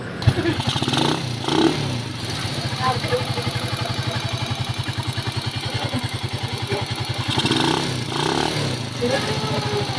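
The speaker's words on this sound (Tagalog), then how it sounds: "pakinggan na natin yung kanyang makina" A motorcycle engine idles steadily nearby, its low thumping pulse even throughout, with slight swells in loudness around the start and near the end.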